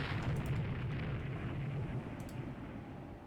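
Naval gunfire in the warship game Rule The Waves 2, a sustained dense rumbling roar of heavy guns and explosions filling the whole stretch without a break, with no distinct individual shots.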